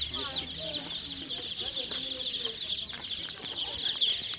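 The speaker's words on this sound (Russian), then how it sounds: "Смотрите, цыплятка." Chicks at a market peep in a dense, continuous high chorus, with a few lower clucks from nearby fowl and faint market bustle underneath.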